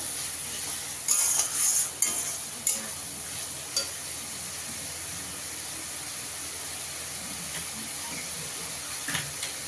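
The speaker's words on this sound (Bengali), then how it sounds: "আলুটা দিয়ে একটু কষিয়ে নেবো ভালো করে।" Potatoes stirred and fried in oily spice masala hiss and sizzle steadily close up, with a few sharp scrapes of a utensil against the pan early on, then a continuous frying hiss alone.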